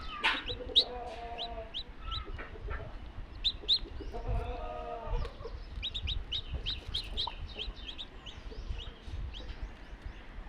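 Chicks peep in rapid high chirps alongside a hen's low clucking on a village farm, a steady close flock chatter with no voices.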